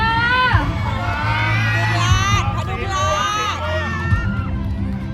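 Crowd cheering at a Songkran pageant results announcement in Na Kae, Nakhon Phanom, Thailand: loud excited shouts and high children's voices over a babbling hubbub, near and continuous.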